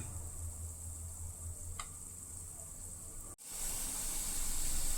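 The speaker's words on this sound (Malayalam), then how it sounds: "എണ്ണ ചൂടായി ഇതിലേക്ക് ചെറിയ ഉരുളയാക്കി ചേർത്ത് കൊടുക്കാം മീഡിയം ഫ്ലെയിമിലിട്ട് വേണം വറുത്തെടുക്കാനായിട്ട്" Mushroom balls deep-fry in hot oil on a medium flame, giving a steady soft hiss and sizzle with a brief tick and a short break before the frying swells back louder.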